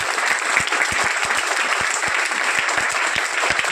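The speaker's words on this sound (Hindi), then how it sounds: "तो मेटाफोर्स के रोड मैप के लिए एक बार जोरदार तालियां होनी चाहिए।" Audience at a Meta Force meet-up in a Maharajganj mall breaks into loud, steady applause, dense clapping continuing throughout with no voices on top.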